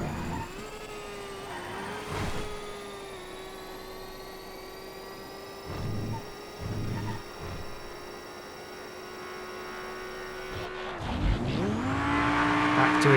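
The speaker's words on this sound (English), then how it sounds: "the quiet electric car to the loud, angry GT3 car" A loud GT3 race car in GTA FiveM drones with a steady engine note, shifting gears through a hairpin before tires squeal near the end.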